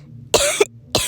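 Two sharp, close coughs, then the start of a third, from a person with a chest cold, separated by short pauses in quiet surroundings.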